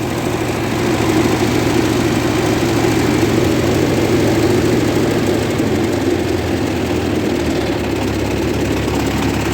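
A 1958 Oliver 550 diesel tractor engine runs at a steady idle, a loud, close, low rumbling chug with a rapid even pulse that holds through the whole stretch, with no talking.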